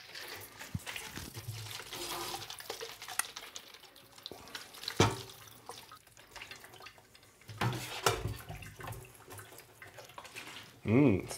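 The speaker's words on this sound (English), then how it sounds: "I'm just going to use copious amounts of alcohol to rinse it." Alcohol is rinsed over a flood-damaged Amiga 500 circuit board in uneven splashing and trickling bursts, with a short louder gush near the end.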